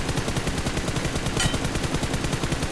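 Rapid automatic gunfire in the mobile battle-royale game PUBG Mobile, a dense, loud, continuous burst of repeated shots with steady rhythm throughout, no talking.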